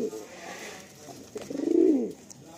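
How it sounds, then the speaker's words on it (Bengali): Madrasi pigeons in a home loft give a soft, close coo that swells into a throaty rolling call in the second half, over quiet room tone. "খুব সুন্দর লাগলো আমার এই পায়রাগুলো।"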